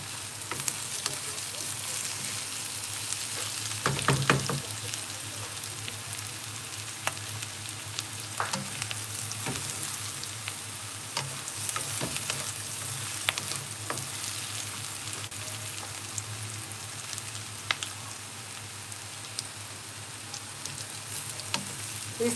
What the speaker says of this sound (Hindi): इस तरह से थोड़ी थोड़ी देर में चलाते रहें ताकि ये अच्छी तरह से सॉफ्ट हो जाए।